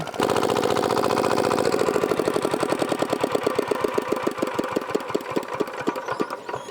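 A 40-year-old restored diesel engine runs close by, chugging loudly at first and then settling into a slower, steady knocking rhythm.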